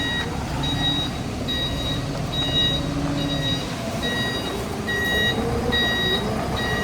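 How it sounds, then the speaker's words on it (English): A truck backing into position at a covered-parking construction site gives a steady series of evenly spaced reversing beeps over a continuous engine rumble and site noise. "Backing up into position."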